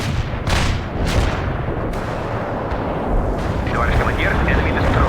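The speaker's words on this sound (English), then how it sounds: "We can deploy and lay down the heavy barrage." Heavy artillery barrage in the war strategy game World in Conflict: repeated deep booming shell impacts roll over one another in a dense, continuous rumble, with faint voices running underneath.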